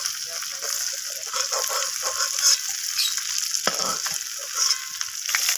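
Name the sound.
potatoes and taro frying in oil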